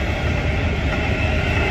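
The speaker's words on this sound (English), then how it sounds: "That's quite a long one for a passenger train." A long passenger train rumbles steadily past beside the Mosel river, a continuous loud, broadband roar with no pauses across the whole stretch.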